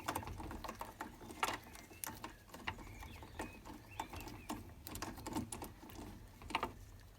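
Small metallic clicks and ratcheting taps sound close and irregular while a bolt is worked out of a Renault Master van's wing mirror, with light rattles between them and no speech.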